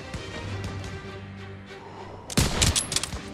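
Machine gun fire in the Call of Duty: WWII video game, a background rattle of gunfire that breaks into a loud close burst of rapid shots near the end.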